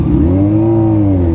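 A Lamborghini drives past close by, its engine note rising and falling in a loud, sustained tonal roar that swells and fades over a second or so.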